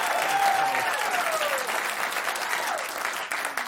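A television studio audience applauds loudly for President-elect Donald Trump being named Time's Person of the Year, a thick sustained wash of clapping with a thin whistle-like tone gliding through it and a voice faintly underneath.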